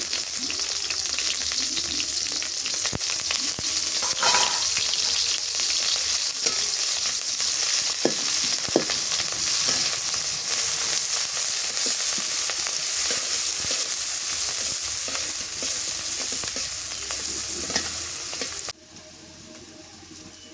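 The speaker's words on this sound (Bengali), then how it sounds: "বেগুন ভাজি করবো তো তেল দিয়ে দিই" Eggplant frying in a generous amount of oil, a loud continuous close sizzle with occasional stirring scrapes, holding steady for nearly the whole stretch before cutting off near the end.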